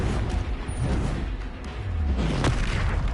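A Confringo explosive spell goes off in a Hogwarts video game, a deep booming blast with rumbling low end, followed by a sharp bright crack, loud and close with a noisy fizzing tail.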